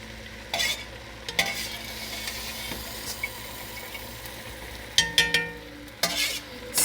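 Chicken frying with onions in a pan, a steady sizzle close by with a spatula or spoon scraping and clinking against the pan at intervals.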